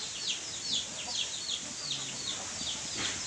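Chickens on a rural Philippine farm, a mother hen among them, cluck and chirp in quick repeated calls at moderate distance over steady outdoor ambience.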